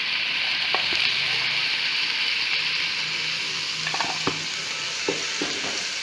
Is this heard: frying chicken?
yes